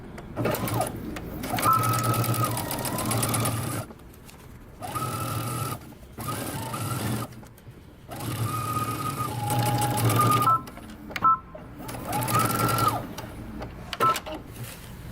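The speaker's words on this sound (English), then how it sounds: "we're going to stitch all the way around our waistband using 5/8 of an inch seam allowance" A sewing machine stitches around a jeans waistband at a 5/8-inch seam allowance, running in several loud, steady bursts of rapid needle whir separated by short pauses.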